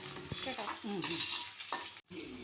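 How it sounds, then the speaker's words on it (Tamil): Chopped tomatoes and raw mango being stirred and sautéed in a pan for a Tamil dried prawn curry, with a sizzling fry under repeated scraping stir strokes and a brief break near the end. "கட் பண்ணி வச்சுருக்கிற தக்காளியும் மாங்காவும் சேர்த்து நல்லாவே வதக்கிடணும்"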